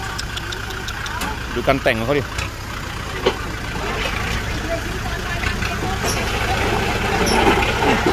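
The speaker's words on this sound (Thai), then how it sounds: "ดูรถไถคันนี้นะครับ" A tractor's diesel engine rumbles and idles steadily at close range while someone talks over it, with a few clanks and a short squeal.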